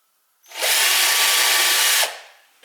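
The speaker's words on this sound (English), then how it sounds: "hold it there and just drill a pilot hole straight away" A power drill bores a pilot hole into a wooden kitchen drawer with one steady, loud whine lasting about a second and a half, starting abruptly and winding down after.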